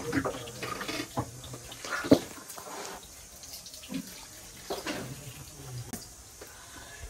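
Tap water runs steadily into a sink while someone washes their hands, with splashing bursts and a sharper splash about two seconds in. Nobody speaks.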